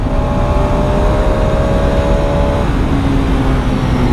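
A Yamaha R15M motorcycle engine drones loud and steady throughout, its pitch dropping sharply partway as the rider downshifts, then settling at a lower tone.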